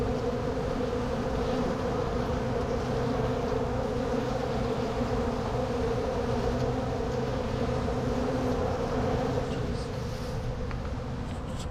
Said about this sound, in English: There's a really cool bee right there.